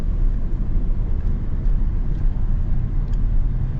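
A Toyota Tacoma Hybrid truck with the i-Force powertrain accelerates, giving a steady, loud engine and road roar that holds even throughout with no break.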